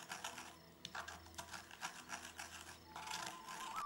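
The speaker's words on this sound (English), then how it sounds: "I put the whole pack of yeast in the mortar, and just need to grind it into very fine powder" A whole pack of yeast is ground to fine powder in a mortar, with a pestle making close, irregular scraping and tapping strokes in short bursts and brief pauses between them.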